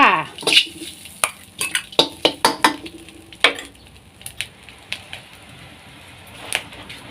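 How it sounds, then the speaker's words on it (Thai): Pork chamuang curry paste sizzles and fries in a pan, while a utensil scrapes and clinks against the metal in quick, uneven strokes, loud and close. "ก่อนอื่นนะจ้านำพริกแกงหมูชมวงลงไปเลยจ้า"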